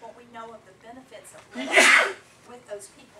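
A single sharp sneeze bursts out in the middle of a speech, loud and close, with someone talking before and after it.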